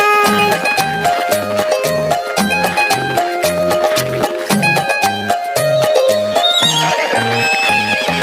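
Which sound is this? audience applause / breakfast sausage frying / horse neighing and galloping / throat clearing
horse neighing and galloping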